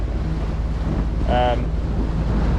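Boat cruising through Saratoga Passage between Whidbey and Camano after leaving the dock in Everett, a constant loud rush of wind and water noise with a faint voice briefly heard.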